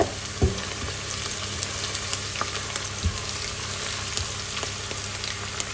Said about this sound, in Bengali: তো এখানে আমি এটা একটু ভেজে নিব ব্রাউন করে।